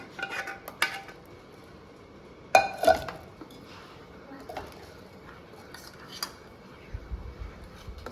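Chilled custard milk and melon juice being mixed in a glass jar, with scattered clinks and light taps of a utensil against glass and a brief cluster of sharper chinks partway through.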